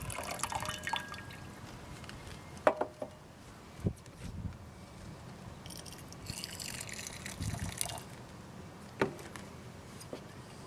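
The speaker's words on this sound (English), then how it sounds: "I'll just finish rinsing this gold mud off" Gold mud being rinsed with water during gold ring refining, with soft trickling and dripping, a few sharper splashes and drips, at low level with no talk.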